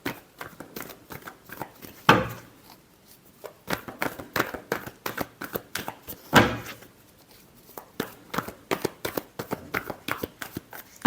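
Tarot cards being shuffled by hand in a quiet room, a long run of soft riffling and flicking strokes with two louder slaps of the deck, close and alone without voices.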